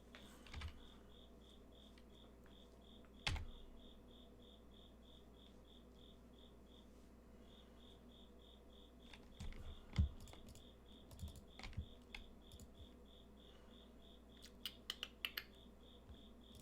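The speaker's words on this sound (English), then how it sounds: "Consider the cicada sounds." A cicada trills in a rapid, evenly pulsed series of chirps that drops out briefly and resumes, steady and moderately faint, while sharp keyboard clicks and taps intermittently cut through in the foreground.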